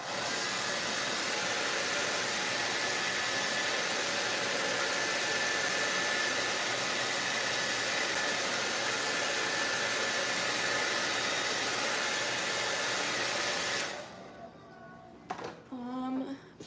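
A hair dryer blows continuously to dry a fresh painting, a loud steady rushing whoosh that runs for about fourteen seconds before switching off, followed by a brief voice.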